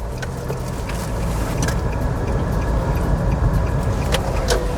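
A used three-row family car drives through a turn, with a steady road and engine hum that swells slightly, and faint rattles and ticks heard from inside the cabin.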